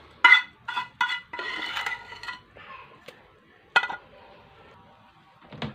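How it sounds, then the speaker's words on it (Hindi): A spoon scraping and clinking against a pot while stirring vermicelli in thickened milk, with scattered sharp metallic knocks and short scraping strokes heard close up in a quiet kitchen. "और इसमें चम्मच हम चलाते रहेंगे और इसको अच्छी तरह से हम गाढ़ा होने देंगे।"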